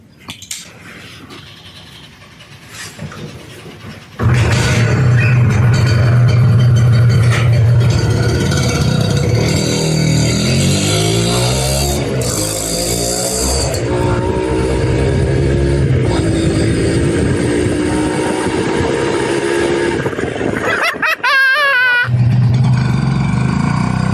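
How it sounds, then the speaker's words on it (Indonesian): A 1996 Honda NSR R150 RC Valve motorcycle being ridden, its engine starting up loud and close, then revving and pulling through rising and falling gear changes with a sustained buzzing drone for about twenty seconds. "Sekarang kita coba jalan dulu ya."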